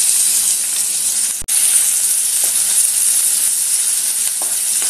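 Chopped onion hits a spoonful of hot oil for a Malvani seafood masala, giving a steady, close, bright sizzle that holds evenly throughout with one brief dropout partway. Nobody speaks.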